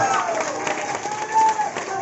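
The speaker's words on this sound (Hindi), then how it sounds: "एक बार जबरदस्त तालियां हमारे सर के लिए" Audience applause breaks out for a speaker at a talk or event, a steady patter of many hands clapping for a few seconds with some crowd noise mixed in.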